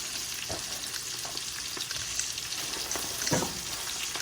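Spinach sautéing in a pan gives a steady close hiss and crackle of frying, broken by soft scraping knocks from stirring, with no voices.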